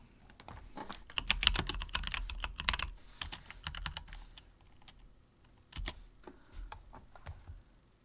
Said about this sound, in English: I'm typing in fat Easter bunny.